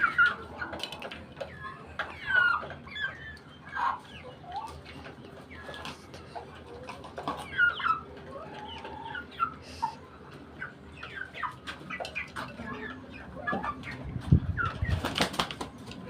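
Pigeons coo softly among scattered bird chatter in a rooftop garden, followed near the end by a burst of flapping wings close by.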